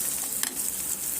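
A tempering of onion, green chili, garlic, cumin and mustard seeds frying in oil, giving a faint steady hiss with a single brief clink near the start.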